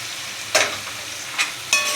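Boiled black peas and chickpeas hit oily masala in a pan, giving a steady close frying hiss broken by a few sharp stirring bursts.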